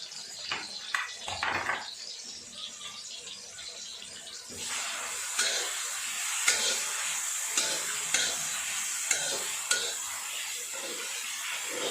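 Ginger garlic paste and onion stir-frying in a little oil for Chinese noodles: a few spoon scrapes give way to a louder, steady sizzle that flares as ingredients hit the pan, punctuated by stirring clinks.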